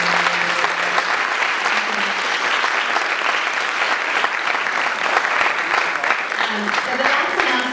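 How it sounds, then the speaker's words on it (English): Warm round of applause from the audience at a crowdfunding masterclass event, steady dense clapping that holds loud and even for several seconds. "give a warm round of applause for Draper Richards"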